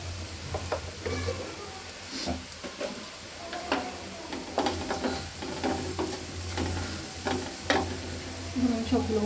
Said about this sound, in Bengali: এই মাছগুলো ভেঙে যায় ভাজার সময়, সাবধানে তুলতে হবে।